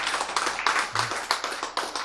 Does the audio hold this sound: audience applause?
yes